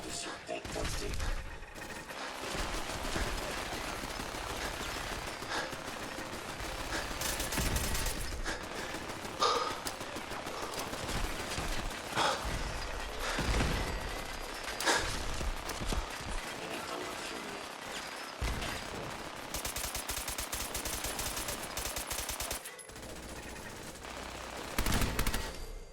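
Dense gunfire bursts and rapid automatic fire from a Fallout 4 Nuka World firefight, loud and sustained with repeated volleys, mechanical clatter and occasional pauses throughout.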